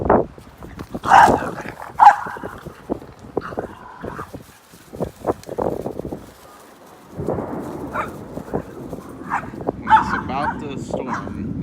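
Several dogs bark, yip and whimper during a thunderstorm, loud and close in repeated bursts with short pauses between them.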